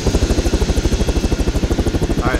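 A Little Bird helicopter in the Arma 3 video game flies close by, its rotor chopping in a fast, even pulse that stays loud and steady for the whole moment, with no voices.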